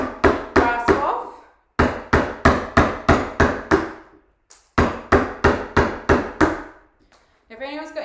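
Repeated mallet blows split wood during woodcarving, a rapid burst of about six sharp knocks, a pause, then more bursts of six or seven strikes, loud and close, with a brief voice at the end.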